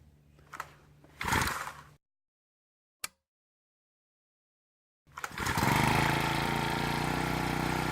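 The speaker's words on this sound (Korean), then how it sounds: "자, 시동이 이렇게 확실하게 걸렸습니다." A Honda GX35 brush cutter engine, started with the choke partly closed, gives a couple of rough pull-start bursts, then silence apart from a sharp click, before catching and settling into a loud, steady running drone.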